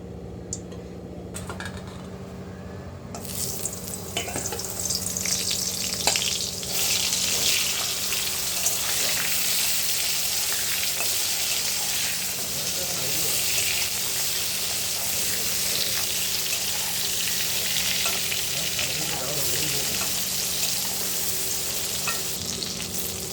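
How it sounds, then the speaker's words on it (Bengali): Steady, close sizzling of eggplant frying in hot mustard oil, continuous and crackly, with occasional faint clinks of utensils. "বেগুনটা ভেজে উঠিয়ে রাখা হবে আগে।"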